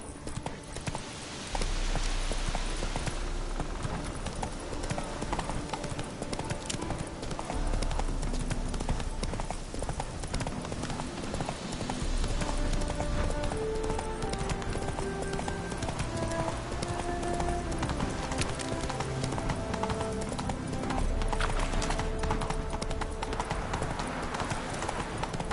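Hooves of the horse Roach in The Witcher video game clop along at a steady walking rhythm, close and continuous, with music and an occasional voice behind.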